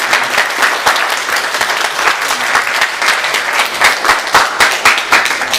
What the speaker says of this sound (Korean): 박수로 좀 잘 격려해 주시면 좋겠습니다.